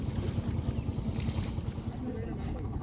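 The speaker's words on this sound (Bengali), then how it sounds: "এদিকে তেঁতুলে নদী দিয়ে ছুটে চলেছে একটি জেলেদের ট্রলার" A fishermen's trawler runs along the Tetulia river in fog, its engine chugging in a low, steady rhythm. Wind rushes over the microphone throughout.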